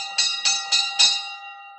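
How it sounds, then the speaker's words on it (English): A doorbell at a house door rings four times in quick succession, bright metallic tones with a sustained ringing tail, clear and close with no talking. "Then he began ringing the bell."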